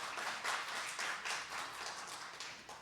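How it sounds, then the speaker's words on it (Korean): Audience applause at a Gyeongbuk citizen-participation forum on disaster and safety issues, steady dense clapping from a crowd that swells in waves and carries through the whole moment without letting up. "여러분 다시 한번 큰 박수 부탁드립니다"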